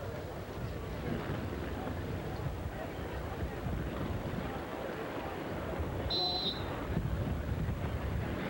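Strong, steady wind roars across the microphone in a continuous rumble on Clearwater Beach during a beach volleyball match, with a brief faint high tone near the end.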